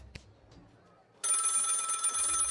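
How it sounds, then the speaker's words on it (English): In a video game, a telephone rings loudly and steadily after a brief quiet stretch with a couple of faint clicks, the bright electronic trill continuing to the end. "The phone is ringing."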